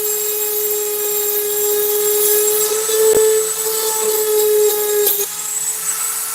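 A Dremel rotary tool fitted with a ball bit carves, giving a close, loud, steady high-pitched whine that holds for several seconds, with a brief drop in pitch before it resumes.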